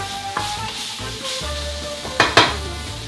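Thai chili paste stir-fried in a hot pan: close sizzling under a low hum, broken by a few metal utensil scrapes and clanks near the end, with no voices.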